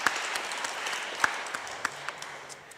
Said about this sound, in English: I think a little round of applause for Anna is also merited